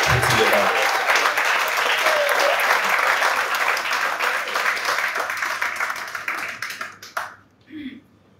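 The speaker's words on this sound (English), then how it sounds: "please, with a fitting, rapturous round of applause, please help us welcome to the podium, Mr. Hadime" An audience at an entrepreneurs' event claps loudly and steadily for a speaker stepping up to the podium, the dense applause thinning out and stopping near the end.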